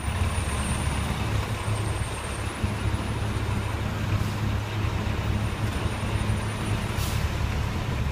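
A ditch digger machine rumbles past at close range as a loud, steady low engine drone with a broadband mechanical roar and faint high whines, holding even throughout.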